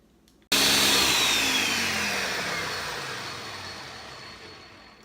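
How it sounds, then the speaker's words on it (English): A blender abruptly starts up and runs continuously, blending a pumpkin cheesecake mixture with a loud, steady whirring roar that eases off slightly in level as it keeps spinning, with no talking. "We blended the mixture for about a minute."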